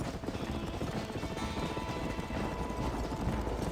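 Hooves clip-clop rapidly as a horse gallops in Red Dead Redemption, a steady rumbling beat at moderate volume under ambient noise, with no speech.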